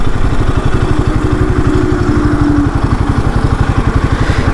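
A Royal Enfield Himalayan 450, the new 2025 model, idles after coming to a stop, its single-cylinder engine thumping in a loud, even, rapid rhythm close by, with nobody talking over it.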